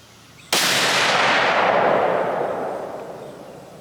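.30-06 rifle fired once with factory ammunition at a range: a single sharp, loud blast that bursts out abruptly and then rolls into a long fading echo.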